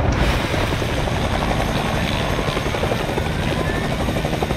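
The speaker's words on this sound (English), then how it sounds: "Here comes the helicopter." Helicopter approaching in the video game Fortnite: a loud, steady, dense rotor and engine roar that fills the whole stretch without letup, with no talking.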